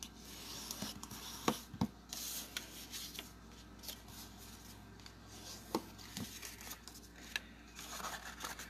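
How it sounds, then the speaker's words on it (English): A bone folder rubs and scrapes over paper while squaring off a crease for a treat holder box: soft, faint, intermittent strokes with a few slightly sharper scuffs, no voices. "then you can take your bone folder and square it off a little bit"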